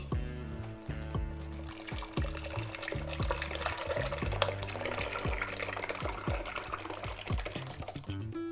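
Cooked dal slides and plops into a pan of tomato puree masala for dal makhani, wet glugs and splats repeating closely over a soft, continuous liquid bubbling.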